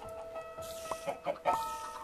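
Chickens in the Minecraft video game give a few short clucks in quick succession, close and clear over a steady low background tone.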